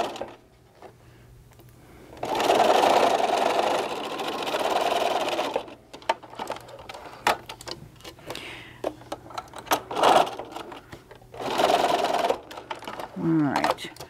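A home sewing machine stitches bag straps with white thread in bursts of rapid mechanical whirring, separated by pauses filled with small clicks and handling noises, with a person talking between and over the runs.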